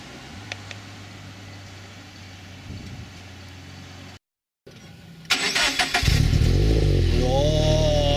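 Supercharged Toyota 86 engine idling quietly, then starting and revving up loudly and close, with rising engine tone and supercharger whine.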